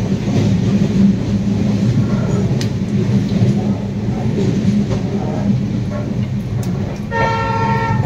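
The LTT Mumbai–Dibrugarh Express rolls on after leaving Lahing station, giving a continuous close rumble with a brief toot near the end and faint voices nearby.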